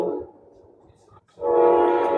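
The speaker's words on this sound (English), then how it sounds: "I'm on mute for a second. Let this train go by." A train rumbles past nearby, then its horn blares loud and sustained, drowning out everything else.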